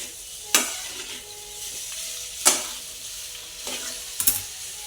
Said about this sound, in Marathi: बटाटा परतून घेतला